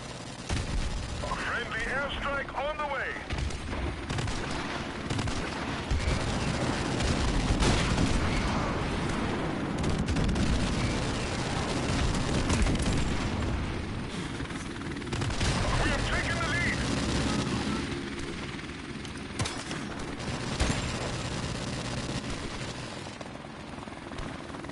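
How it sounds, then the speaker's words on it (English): Airstrike explosions and heavy gunfire in Modern Warfare Remastered: sustained booming, crackling bursts and rotor-like rumble fill the whole stretch loudly, with speech heard over the battle. "Airstrike on the way!"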